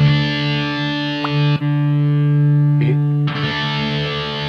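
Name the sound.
electric guitar through Yamaha THR30II amp, distorted preset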